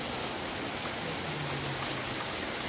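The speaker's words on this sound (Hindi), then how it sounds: "इतना तेज बारिश होने लगा तो बहुत जोर बारिश होने लगा" Heavy rain pours down steadily, a dense, even hiss of water that fills the whole clip without a break and holds at a constant level, with no voices heard.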